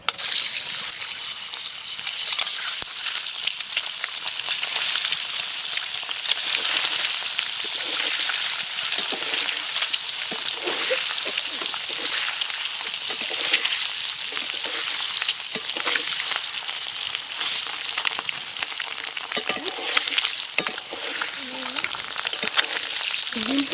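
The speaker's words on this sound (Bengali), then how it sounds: "তেল গরম হয়ে গেছে ডিমগুলো দিয়ে দিচ্ছি" Eggs frying in hot mustard oil in a wok give a constant close sizzle with spattering crackles, steady and fairly loud for the whole stretch.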